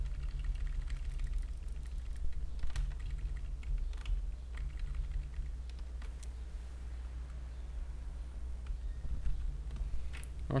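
Computer keyboard keys pressed during design work in Illustrator, sparse light clicks scattered over several seconds above a steady low hum, faint and close with no talk.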